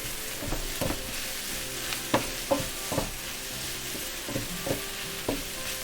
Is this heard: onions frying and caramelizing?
yes